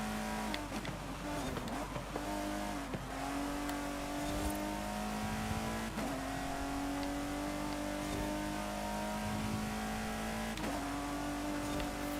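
A car engine in Forza Horizon 5 revs hard and close, its whine climbing steadily then dropping with each gear change, repeating several times over a continuous roar.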